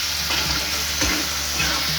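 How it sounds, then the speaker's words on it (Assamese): Tomatoes sizzle steadily in a hot pan for an Assamese home-style dish, with a few scraping strokes of a stirring spatula cutting through the continuous frying hiss at close range. "এইখিনি এতিয়া মই আকৌ ভাজিম। বিলাহীখিনি একেবাৰে গলি যাব লাগিব।"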